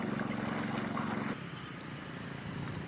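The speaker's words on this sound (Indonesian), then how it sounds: "menggunakan mesin pompa." Small engine-driven water pump drawing water to irrigate farm fields, a steady droning motor hum that drops slightly in level partway through, running continuously with no voices.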